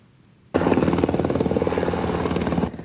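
A helicopter fighting a mountain forest fire starts abruptly. Its rotor throbs loudly and steadily with a low engine whine for about two seconds, then fades a little near the end.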